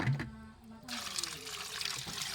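Water splashes and trickles into a cooking pot of snails for a coconut-milk dish, a short burst of pouring that fades then resumes as a steady flow, with a voice speaking close by.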